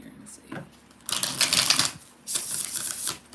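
A deck of tarot-style reading cards is shuffled by hand in two long bursts of crisp riffling, close and fairly loud, separated by a brief quieter pause.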